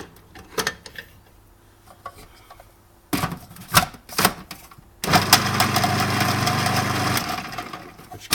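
A Magimix Cuisine System 5100 food processor with its mixing blade and planetary gear system starts after a few clicks and handling knocks, then runs with a loud, steady motor whir close by.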